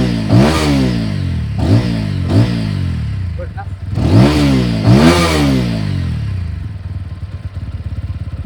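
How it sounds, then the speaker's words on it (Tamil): A 2025 TVS Apache RTR 200 4V motorcycle engine revs hard toward 9000 RPM in about five loud, close throttle blips, each rising and falling sharply over a rough idle. "let's ரெவப் to 9000 RPM"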